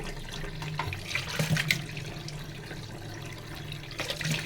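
Tap water runs steadily into a sink while large sarputi fish are rinsed by hand in a home kitchen, a continuous splashing wash with a brief louder surge partway through and another near the end.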